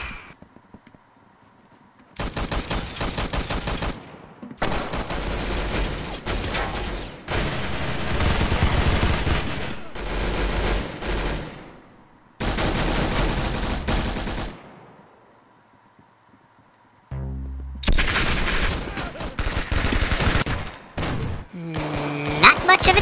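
Machine gun fire in the Roblox Arsenal video game comes in several long, loud automatic bursts of rapid shots. Short quiet gaps separate the bursts, and a voice speaks at times between them.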